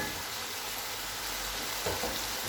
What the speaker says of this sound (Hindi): देखिए कीमा अच्छे से फ्राई हो गया